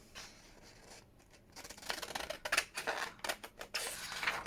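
Scissors cutting through packaging material for a junk journal, a run of soft crisp snips and rustles that grow busier toward the end, close and fairly quiet with no talking.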